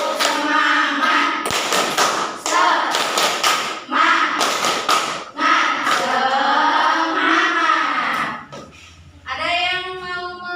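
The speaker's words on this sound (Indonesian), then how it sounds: "Coba tepuk semangat dulu semuanya." Indonesian classroom of students doing the rhythmic 'tepuk semangat' spirit clap in loud, patterned bursts of claps and taps, with children's voices chanting between clap groups.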